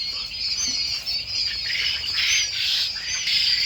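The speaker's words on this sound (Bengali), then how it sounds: "কিছু বাচ্চা কিন্তু আমাদের ইনকুবেটর মেশিনে কোয়েল পাখির বাচ্চা ছিল সেগুলোকে আমরা ছেড়ে দিলাম" High, continuous chirping and peeping from a group of small quail chicks, close by and busy, with no talking.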